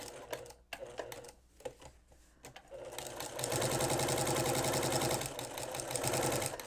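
A sewing machine with a walking foot fitted sews close up: a few scattered clicks and taps first, then a steady, fast mechanical chatter of stitching runs continuously for the last few seconds, with no talk.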